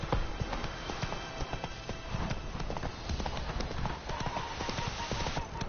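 Roach, a horse in The Witcher 3, gallops in a steady rapid clip-clop of hooves that runs the whole way, close and fairly loud over a busy game soundscape.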